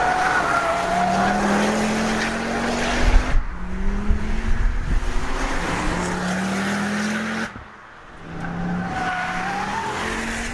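A Ford Focus RS with a tuned 2.5-litre five-cylinder engine is driven hard on a French mountain road, the engine rising and falling through gear changes with tire squeal, loud and close, briefly dipping mid-run.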